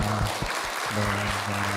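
Brief burst of welcoming applause from a church congregation during Sunday worship, moderate room clapping with a low steady tone humming beneath it.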